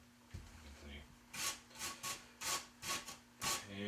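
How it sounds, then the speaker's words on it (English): Food is rubbed against a hand grater in about six rhythmic rasping strokes, close and moderately loud after a quiet start. "I'm going to try it this way to using the grater and just rubbing it against there."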